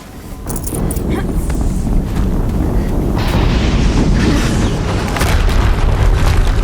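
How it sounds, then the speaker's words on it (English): A heavy explosion in the video game Horizon Zero Dawn booms and then rolls on as a loud, dense rumble that fills the whole stretch without fading. "Another explosion."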